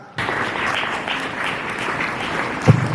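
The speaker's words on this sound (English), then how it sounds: "Let's give a huge round of applause" An audience at a school Republic Day celebration bursts into sudden applause, steady hall-filling clapping that continues for a few seconds with one sharper knock near the end.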